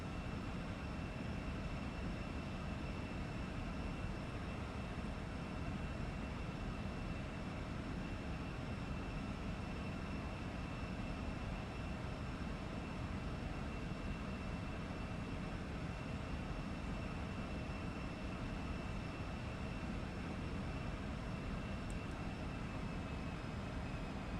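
Simulated Embraer E175 jet engines in X-Plane 12 give a steady, unbroken broadband roar with a faint high whine layered on top, holding an even level throughout with no voices.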